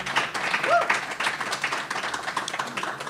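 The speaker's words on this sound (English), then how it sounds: "Let's give them a round of applause for coming to see us here tonight." Audience applause at a Kansas City jazz event, moderate crowd clapping that stays fairly steady, with a few voices and whoops mixed in over the clapping.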